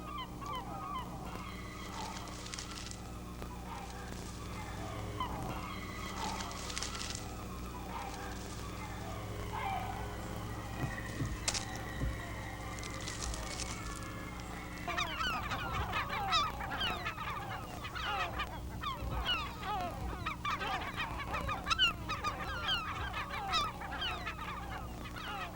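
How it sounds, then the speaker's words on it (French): Gulls call continuously in spring along the trails of Sept-Îles, a dense chorus of honking, squawking cries from many birds near and far, rising busier midway, with no voices. "Les goélands arpentent leur domaine en toute confiance en jetant autour d'eux un coup d'œil discret."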